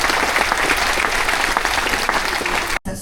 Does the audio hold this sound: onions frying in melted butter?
no